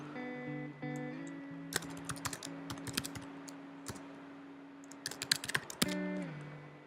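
A computer keyboard typing a comment in editing software, with irregular clusters of light key clicks and a few louder taps over steady background tones.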